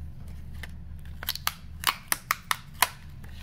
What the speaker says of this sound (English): I'm gonna need some tape. Tape it down.